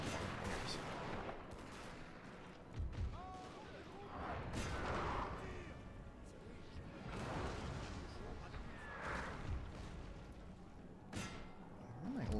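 Cannon artillery fires during a battle in Napoleon: Total War, with scattered muffled booms and crackling volleys rolling over a dense, continuous battlefield din.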